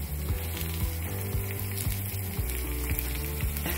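Ragi dosa frying on a hot pan, a steady close sizzle running throughout with faint scraping as the dosa is turned over; no talking.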